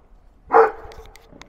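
One loud, close bark comes from a dog outdoors beside an olive tree being pruned, followed by faint background noise.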